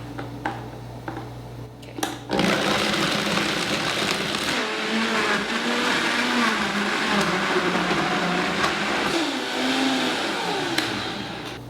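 Blender whirring loudly as it blends a smoothie with water, kicking in after a few faint clicks and running steadily to the end.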